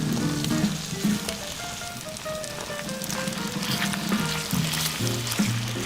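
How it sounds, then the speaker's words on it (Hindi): Potatoes frying in oil with lightly fried onions for a Spanish omelette, a steady close sizzle over faint background music throughout. "अब सारे आलू कट गए हैं। इन आलू को इस हल्के तले हुए प्याज में डालना है।"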